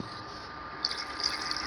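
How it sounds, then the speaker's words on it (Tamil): Water is poured into a hot pan of roasted semolina while making kesari, producing a steady, close hiss that brightens into a sizzling rush partway through, with no talking. "தேவையான அளவுக்கு தண்ணி ஊற்றிக்கலாம்"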